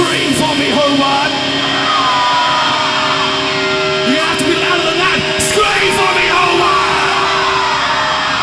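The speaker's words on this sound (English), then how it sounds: "Scream for me, Hobart." A concert crowd in Hobart at a live metal show yells and screams loudly together in a sustained roar, dense and close, with stage hum underneath.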